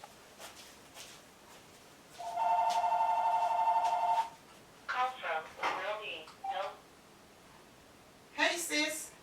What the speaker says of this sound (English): you see the phone is ringing now.